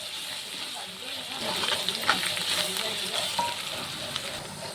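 Chole masala with added coriander powder and garam masala fries in a pan, giving a steady close sizzle with occasional stirring scrapes throughout.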